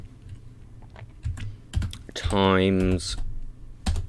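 Close computer keyboard typing in short irregular bursts of key clicks, with a brief spoken voice in the middle.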